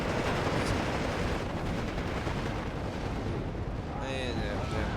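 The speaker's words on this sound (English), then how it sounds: "there's the mortar fire just obliterating the side" Mortar fire pounds a position in the WWII strategy game Steel Division 2, a loud, unbroken wall of explosive rumble and crackling battle noise with barely any let-up.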